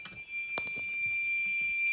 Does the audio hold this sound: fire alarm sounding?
yes